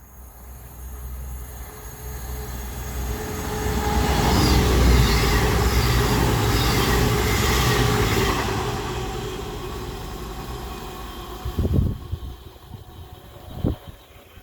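A Voyager passenger train passes along the tracks at Coseley, a broad rumble swelling to a peak midway and fading, followed by a couple of sharp rail clanks near the end.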